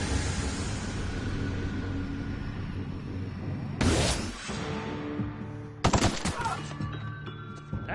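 Gun bursts from The Outer Worlds video game ring out over a steady background hum. Two sharp, loud volleys land a couple of seconds apart, with ringing tails after each.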